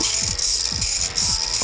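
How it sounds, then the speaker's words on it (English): An RC servo cycler drives a pair of doubled servos, giving a close, steady whine with rapid repeating ratchety gear buzzes in a quick rhythm. "I'm going to go ahead and turn on my servo cycler to manual here and show you how this works."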